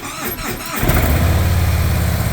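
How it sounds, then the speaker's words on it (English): A motorcycle is started with its electric start button, the starter giving way to the engine catching and settling into a steady, loud running rumble. "So now I can actually hit the start button."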